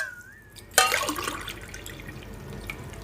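About half a tumbler of water pours from a cup into a pot of South Indian sambar, a sudden splash that settles into a brief gurgling trickle, close by.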